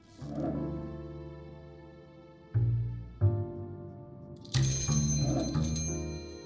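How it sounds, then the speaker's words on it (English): A chiming doorbell jingles merrily at the Blackbriar bar in the video game Last Night Last Call, bright bell tones ringing out over a steady hum of in-game music and ambience, with a few thumps between the chimes. "The Blackbriar's doorbell jingles merrily as a man steps up holding a newspaper"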